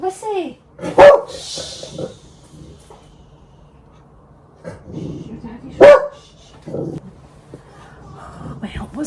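Dogs in a house bark in two loud, sharp bursts a few seconds apart, with quieter yaps and someone talking between them.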